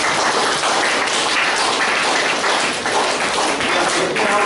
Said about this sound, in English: Can you clap for this?